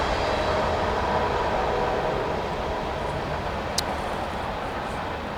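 A train roars past at speed, a loud steady broadband rush that holds throughout, with one brief high squeal partway through.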